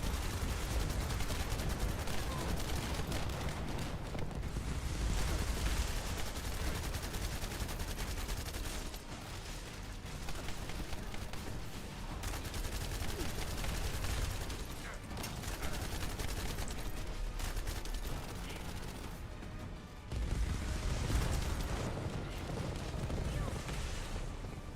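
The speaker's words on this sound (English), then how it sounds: "Yeah, nice bombardment." A bombardment in The First Descendant video game: dense, continuous barrage of gunfire and booming explosions, loud throughout with brief dips, a voice faintly under the din.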